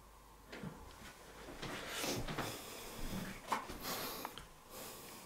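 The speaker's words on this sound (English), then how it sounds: "I think I heard something knock on that door" A faint knock on a door inside a reputedly haunted house, 30 East Drive in the UK, comes as a few soft, scattered wooden thuds in an otherwise quiet room.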